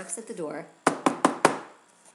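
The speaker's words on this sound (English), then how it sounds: "As Yaakov knocks at the door" A voice speaks briefly, then four sharp, evenly spaced knocks on a door ring out close by in quick succession.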